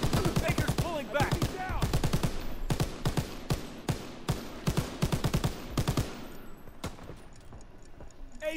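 Rapid bursts of machine gun fire crack through a war video game battle, sharp shots in quick clusters that thin out toward the end, with a few isolated reports.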